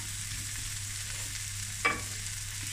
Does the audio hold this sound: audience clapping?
no